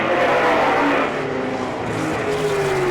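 A sprint car lapping the Selinsgrove dirt track in Pennsylvania during an All Star Circuit of Champions time trial, its engine roaring loud and steady with a pitch that shifts through the lap.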